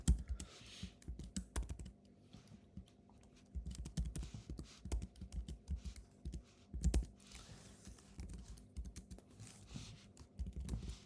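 Fingers type code on a computer keyboard in steady bursts of soft, close key clicks, pausing briefly between runs of keystrokes, no voice heard.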